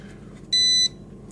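A voltage tester gives a single steady electronic beep lasting about a third of a second, loud and close, against faint background hum while checking wiring at a double light switch.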